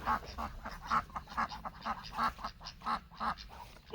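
Ducks quack repeatedly in a steady series of nasal calls at feeding time, near and moderately loud, with no speech over them.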